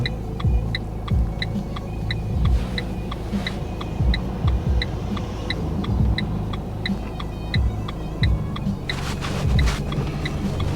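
A learner's car pulls away on a slope during a driving lesson, engine rumbling and throbbing steadily inside the cabin with a regular ticking indicator clicking throughout.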